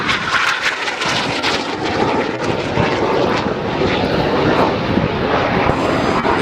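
Red Arrows jets fly past at the RAF Leuchars Airshow, a loud, continuous roar of jet engines that fills the air, with no talk over it.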